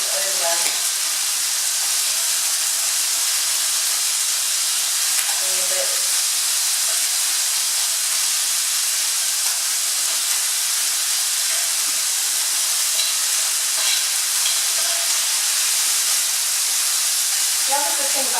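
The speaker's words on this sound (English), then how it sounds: "I can hear it's sizzling away, and we don't want it to cook, we just want it to brown." Lamb pieces sizzle while browning in a pan for a tagine, a steady, loud hiss and crackle throughout with occasional faint stirring sounds and no talking.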